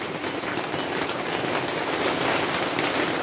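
Rain falls on stacked four-tier quail cages outdoors, a loud, dense, continuous hiss of drops striking the wire and surfaces with no pause and no talking.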